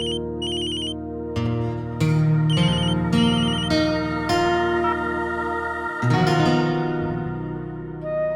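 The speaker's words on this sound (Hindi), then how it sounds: "हे भगवान, मैं तो भूल ही गई, अंशु को भी फोन करना था।" A phone ringtone plays, a bright repeating electronic melody with a looping musical pattern, clear and fairly loud, no one speaking.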